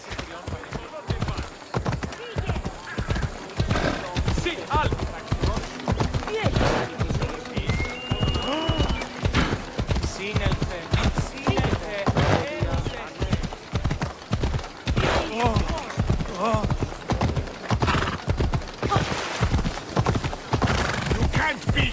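Horse hooves gallop in steady clip-clop rhythm through Assassin's Creed Odyssey, loud and continuous with occasional neighs and game voices speaking over the running.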